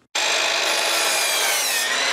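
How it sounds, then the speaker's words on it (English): Power tools cut into wood in a high school geometry-in-construction class, a loud, steady broadband whine and rasp that starts abruptly and runs continuously without pause. "These geometry students have put down the protractors and picked up the power tools."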